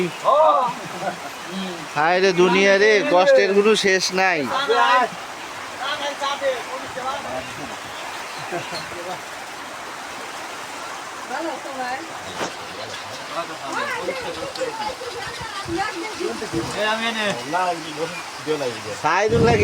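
Rain falling outside a shop in an open field, a steady broadband hiss of rainfall throughout, moderately loud, with people talking over it and a voice singing in places.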